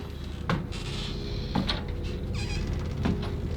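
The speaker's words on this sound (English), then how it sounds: "Even got the creaky door going on." An old door creaks open in a greenhouse-like room inside a Japanese dollar store, with several short squeaking creaks spaced apart, fairly close, over a steady background hum.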